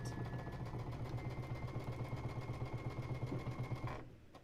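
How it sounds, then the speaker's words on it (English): A sewing machine runs continuously while stitching rows of quilt blocks together for an open star block, a steady close mechanical hum and rapid needle chatter that stops abruptly near the end. "I'm going to do that for both of these rows and sew them at the same time"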